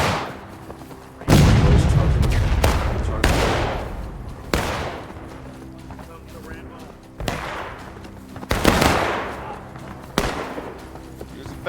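Musket fire in the Civil War battle game War of Rights, with sharp shots cracking out at irregular intervals, some loud and close, others softer and more distant, each followed by a brief booming tail.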